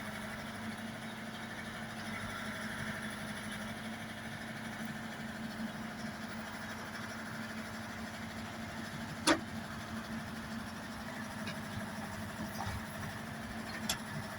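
A tractor-mounted excavator runs with a steady, fairly distant engine drone while digging and dumping soil, with one sharp metallic clank partway through.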